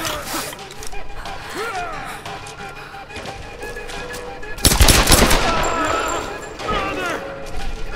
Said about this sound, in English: Getting better with this pistol.